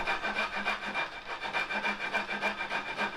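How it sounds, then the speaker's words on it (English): A hand file rasps back and forth on a knife blade's bevel at a shallow angle, steady rhythmic strokes about three per second, close and clear with no talk. "I'm just going to file away at this."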